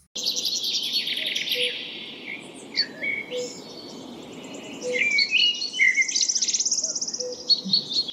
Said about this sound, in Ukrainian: це спів птахів.